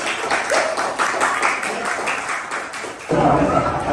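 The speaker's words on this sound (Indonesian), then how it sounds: "tepuk tangan untuk kelompoknya Widi" A class applauds a group after its presentation, scattered clapping mixed with murmuring voices, then the clapping fades as a voice begins speaking near the end.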